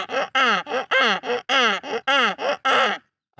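A person imitates a painted stork call with a rapid series of about nine harsh, nasal, gasping bursts delivered close and loud, then stops.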